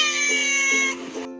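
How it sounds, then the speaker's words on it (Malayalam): A domestic cat lets out a long, drawn-out meow followed by a shorter one, close and clear with no talking. "ദീപുവിന്റെ പൂച്ചയാണ് ചിഞ്ചുപൂച്ച"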